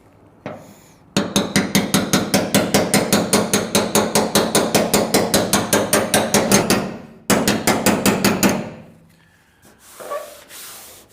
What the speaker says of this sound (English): I'm gonna tap this down just a little bit